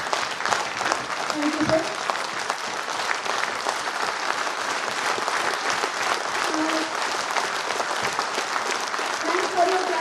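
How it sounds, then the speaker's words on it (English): An audience stands and claps steadily at a felicitation ceremony honouring a bank officers' union chairman. The dense applause carries on for the whole stretch, and a voice briefly speaks over it. "Thanks for your clapping"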